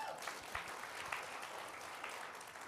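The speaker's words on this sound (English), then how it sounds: "give yourself a big loud applause." Brief burst of applause from participants at an auto sales training seminar, moderately distant clapping spread evenly across the room.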